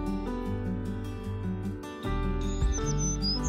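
A few short, high bird tweets chirp near the end, set over soft, steady background music in a children's story.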